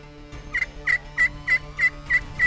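Wild turkeys gobble during a Kentucky turkey hunt, a run of seven sharp, evenly spaced gobbles that sound fairly close and clear, with no one talking.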